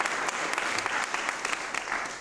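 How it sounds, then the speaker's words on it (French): An audience claps steadily in dense, continuous applause at moderate volume, with a few sharper individual claps standing out and a faint voice underneath. "Applaudissez pour lui."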